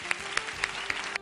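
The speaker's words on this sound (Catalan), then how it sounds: "Un fort aplaudiment per la moral del president," Studio audience applause at a Catalan television comedy show, brief and fairly faint, with a steady wash of clapping and a few sharper claps recurring at regular intervals.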